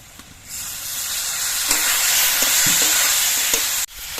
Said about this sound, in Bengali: হলুদের গুঁড়োটা যাতে পুড়ে না যায় তার জন্য একটুখানি জল দিচ্ছি